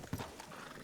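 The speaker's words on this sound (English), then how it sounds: "Hitch your horse up here." A horse in Red Dead Redemption 2 clops its hooves and gives a short neigh, faint and brief, with a soft hoof thud near the start.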